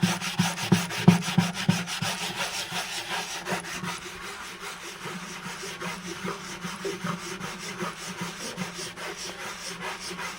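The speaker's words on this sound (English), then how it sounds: "the last sanding step, which is to use 240 grit sandpaper" Hand sanding on an old acoustic guitar's wood with 240 grit sandpaper, steady rhythmic back-and-forth rubbing strokes, close and continuous, stronger at first then softer, no talking.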